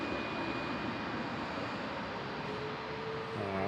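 Aircraft taxiing at Melbourne Airport, a steady broad engine roar heard from a distance that holds constant throughout, with a faint tonal whine and no talk.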